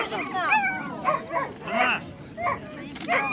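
Whippets and other sighthounds at a Russian coursing cup award ceremony bark in short repeated bursts, mixed with yips and people talking close by.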